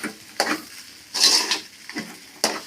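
Fish podimas sprinkled with pepper powder is stirred in a pan, giving a handful of scraping, clattering strokes at an uneven pace, close and moderately loud with a faint sizzle between them.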